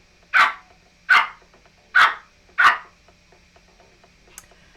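A puppy barking four times in an even, spaced rhythm, sharp and fairly close, then falling quiet apart from a faint yip at the end.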